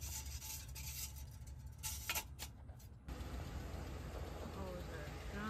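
A Ford vehicle with a transmission fault that won't go forward or reverse (code P0751) starts up and settles into a steady, close engine idle with a broad, constant hum.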